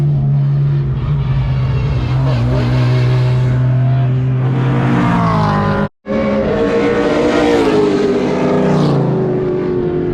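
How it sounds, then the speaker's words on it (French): A loud Tesla Model X electric car roars continuously past on a race track, with rising and falling whine, a brief cut, then another pass close by. "pourquoi pas mettre sa Tesla Model X sur circuit"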